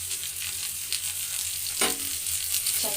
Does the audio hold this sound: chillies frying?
yes